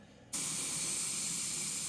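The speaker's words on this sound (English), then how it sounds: "So I'm going to spray very light at the bottom." An airbrush bursts into a steady, close hiss of sprayed paint, a light coat applied to the lower part of a muscle car, continuing evenly after a quiet start.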